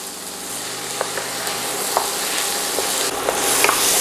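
Vegetables sautéing in a pan for an oxtail dish, a steady close sizzle with light scraping clicks from stirring scattered throughout, no voices.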